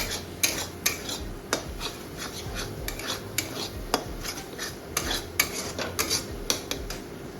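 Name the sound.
scrambling egg frying in pan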